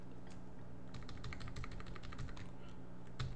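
Typing on a computer keyboard: close, rapid bursts of light clicking keystrokes with short pauses between runs and no talking.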